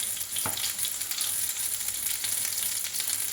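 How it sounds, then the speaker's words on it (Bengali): Potol peel paste with turmeric, salt and spices sizzles steadily in a pan, a constant hiss with one soft stirring scrape near the start. Close and even, no talking. "দেখুন, আমার ভালো করে কষিয়ে ভালো করে ভাজা ভাজা করে নিয়েছি"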